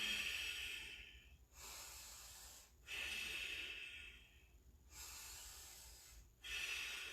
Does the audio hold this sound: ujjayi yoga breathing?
yes